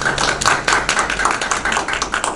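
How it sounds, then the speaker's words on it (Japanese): Applause for three racing drivers at a Super Formula Lights press conference, a steady wash of many hands clapping fairly close, dense and continuous without voices. "まずは3選手に拍手をお願いいたします。"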